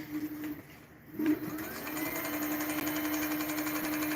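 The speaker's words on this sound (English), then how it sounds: "You can still hear a tiny bit of rubbing" A faint, steady rubbing whir from a bicycle disc brake rotor, with a high tonal ring, runs continuously, quiet and close, with a brief dip near the start.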